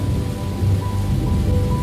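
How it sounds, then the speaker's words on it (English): Steady rain pours over the city of Philadelphia with a low rumble of thunder beneath it, a continuous, fairly loud storm wash with no voices. "Rain begins moving across the city."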